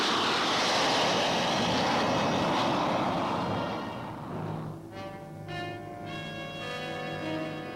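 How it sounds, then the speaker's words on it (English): A Lockheed U-2 spy plane roars loudly through its takeoff roll with a broad, steady engine rush. The roar fades as the aircraft moves away, leaving a thinner whine with tonal hums in the distance. "Note that on the takeoff roll, the outrigged gear drop off as the plane picks up speed."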